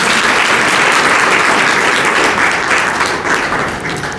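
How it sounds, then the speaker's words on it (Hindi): A crowd at a Navratri celebration claps together loudly and steadily, a dense wash of hand claps close by that holds for several seconds before tapering off at the end. "खुशी की बात है, ताली बजाओ।"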